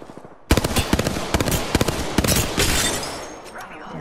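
Rapid automatic gunfire in a video game, loud close bursts of sharp shots in quick succession that trail off, with a player's voice talking over the shooting.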